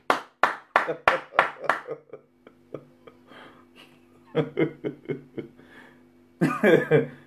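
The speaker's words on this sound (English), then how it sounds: "Clap for ego" A few people in a church audience clap in a sparse burst of about seven distinct claps, followed by quieter murmuring and coughing, then another short scattered round with a brief loud flurry at the end.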